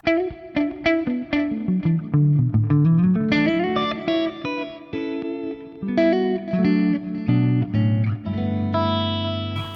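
Electric guitar through a Fender Twin amp model playing a melodic phrase of picked single notes and sustained chords, clean amp tone with light reverb, loud and close.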